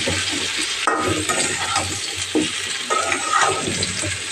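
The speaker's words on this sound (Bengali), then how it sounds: "মূলাগুলা দিয়ে এখন একটু নেড়ে চেড়ে সব মশলা দিয়ে" Radishes frying with spices in a pan sizzle steadily while a spoon stirs them, giving repeated scraping strokes close up.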